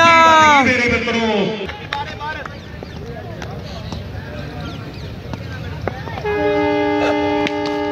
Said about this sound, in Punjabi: ਟ੍ਰੇਨ ਦਾ ਹਾਰਨ ਵੱਜ ਗਿਆ